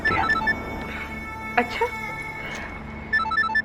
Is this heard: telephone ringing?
yes